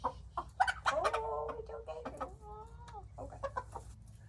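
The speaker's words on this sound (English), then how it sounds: "own little flock of chickens." A small backyard flock of chickens clucks and murmurs close by, with short pecking calls and a drawn-out tonal squawk over a quiet low hum.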